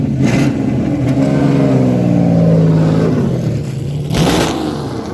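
Engine of the Vandal supercar revving hard and close, rising and falling in pitch with a sustained loud roar and a second burst near the end, no talk over it.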